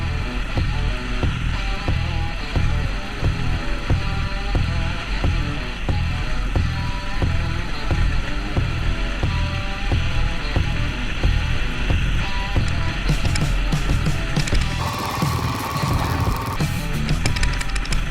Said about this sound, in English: Or you can hit the trails with your Royal Enfield Himalayan.